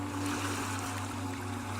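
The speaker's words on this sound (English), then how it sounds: "hearing the sound of the sea." Steady wash of sea waves rolling in, a continuous broadband roar with a low hum underneath, evenly loud throughout with no voices.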